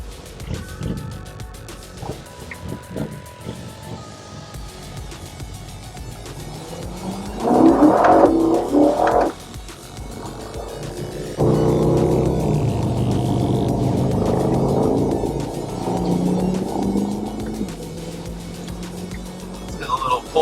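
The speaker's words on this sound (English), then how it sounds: "If you want to rev like these guys, you can just pull these paddles in." A 2022 Corvette Z51's engine revs up twice with the paddle shifters pulled in, a first short roaring burst followed by a longer sustained rev that settles down, close and loud with a faint background hum.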